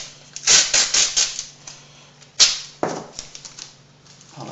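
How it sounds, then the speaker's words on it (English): Adhesive masking tape is pulled off the roll in a quick burst of ripping strips, then pressed down onto a Boba Fett helmet dome with a few sharper tearing snaps afterward, close and crisp with no talking. "Pull it off and just tape it down."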